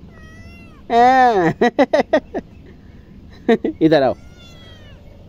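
A small kitten meows loudly and drawn-out, followed by short chirpy cries, then another long meow; a person speaks softly in between.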